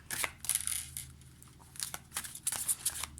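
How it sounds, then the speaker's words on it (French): Golden Lenormand cards being drawn and shuffled by hand, a close, irregular run of crisp papery flicks, slides and taps, with no talking. "On va tirer quelques cartes."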